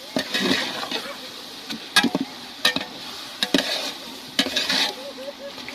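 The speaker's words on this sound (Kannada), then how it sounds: "ಹುಟ್ಟಾಕಿ ಕಿರ್ಸೋಣ ಹಿಂಗೆ ಕಿರ್ಸ್ಬೇಕು ನೋಡ್ರಿ" Ghee rice with ginger-garlic paste being stirred in a large pot, a big five-kilogram batch: irregular close scraping strokes and clatter against the metal, with a soft sizzling hiss underneath.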